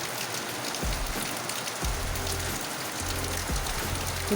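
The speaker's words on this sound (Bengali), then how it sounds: "বৃষ্টি কত জোরে বৃষ্টিটা যে নামলো" Steady heavy rain hisses continuously, with a low intermittent hum beneath it.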